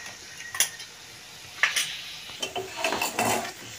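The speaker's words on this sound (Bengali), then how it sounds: "আলু আর সয়াবিনটা একটুখানি ওর সঙ্গে কষিয়ে নেব" Potatoes and soybean chunks being stir-fried with spices, with a soft sizzle under intermittent scraping and clinking of a spatula against the pan, close by and without speech.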